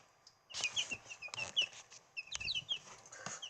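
Backyard chickens clucking and calling in short, bright bursts, several birds close by with irregular gaps between calls, no talk.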